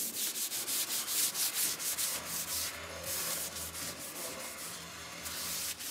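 Fine 800 to 1000 grit sandpaper rubs over the painted body of a VW Beetle in quick rhythmic back-and-forth strokes, a soft hissing scrape that runs steadily with no voices.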